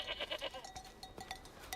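Several goats bleat in quick succession with a wavering, nasal tone, fairly close and layered over a busy rural background, with no talk.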